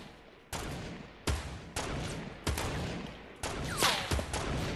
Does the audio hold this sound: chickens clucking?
no